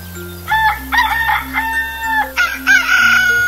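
A rooster crows loudly and close by, its harsh, rising call repeated a few times in quick succession, with another crow overlapping near the end.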